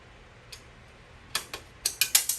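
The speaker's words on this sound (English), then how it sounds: "I'm going to put a couple screws in the shield just to kind of hold it in place" Screws go into the exhaust heat shield of a Honda CT70 motorcycle, heard as a few scattered metallic ticks and then a quick run of sharp ratcheting clicks, close and fairly quiet, with no talking.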